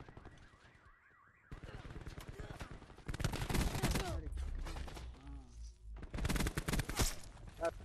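Rapid bursts of gunfire from the video game Call of Duty, loud and repeated in clusters amid a siren-like warble and game effects, with voices speaking.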